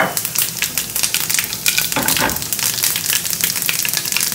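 A spice mixture of fenugreek, red chilli powder and turmeric hits hot oil for aloo chukauni, giving a loud, steady sizzle and crackle close up that runs throughout.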